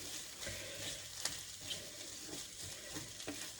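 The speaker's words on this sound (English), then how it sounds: "I'm just going to fry up my rice with that flavouring" Rice fries in a pan with paprika and cayenne, a soft steady sizzle broken by gentle scraping stirs and occasional light taps, close but quiet, with no talking.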